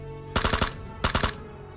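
Suppressed gunfire in PlayerUnknown's Battlegrounds: two quick bursts of about four sharp muffled shots each, separated by a short pause, loud and close.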